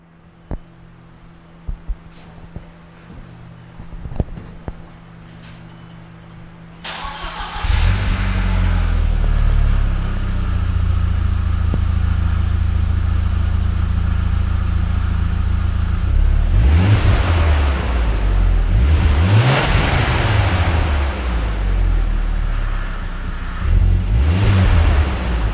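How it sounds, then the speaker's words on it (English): An Audi engine with a swapped downpipe cranks and catches, then settles into a loud steady run with several sharp revs toward the end, heard close and alone. "I'll put a sound clip in of it cranking before and after the downpipe"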